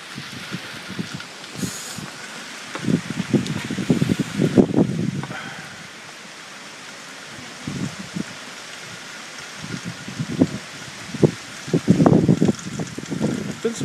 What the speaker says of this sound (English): Been some pretty good gusts, but steadily it's not too bad yet.